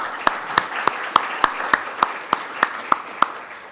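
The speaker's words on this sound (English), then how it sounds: "If you'll join me in giving a round of applause once more." Applause for a speaker at a chemistry conference lecture, heard as a steady, evenly spaced run of about a dozen crisp claps, close and distinct, with little crowd noise around them.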